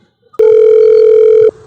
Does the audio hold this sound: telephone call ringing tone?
yes